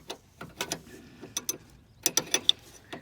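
A wrench loosens the 11/16 fitting on a Jeep Cherokee power steering pressure hose, giving a run of sharp metallic ratchet clicks in irregular bursts, close by, with no talk.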